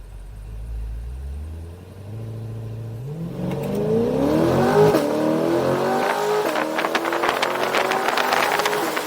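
A 2020 Chevrolet C8 Corvette launches hard from a standstill, its engine note climbing steadily in pitch and loudness over several seconds, then holding a strong, rising roar with a rough edge near the end.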